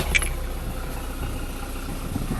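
Test fire of a remounted Mercury Alpha One Gen 1 sterndrive engine after drive shaft seal replacement, a steady low idling engine rumble running throughout.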